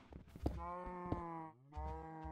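Cows in Minecraft moo in two long, droning calls with a brief gap between them, close and clear, with light clicking and thumps of game sounds underneath.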